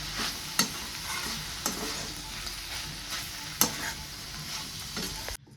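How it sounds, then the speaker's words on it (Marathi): Potato and dill (shepu) vegetable with crushed peanut powder being stirred in a pan, a steady soft sizzle with a few sharp spoon scrapes and knocks against the pan, close and alone. "रात्री टाकते शेंगाचं कूट टाकून छान अशी भाजी मिक्स करून घेते"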